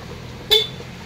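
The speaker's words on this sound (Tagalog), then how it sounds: "Tapos busina natin." A single short blast from a newly installed dual horn on a Yamaha NMAX V2 scooter, loud and close, lasting about a tenth of a second against quiet background.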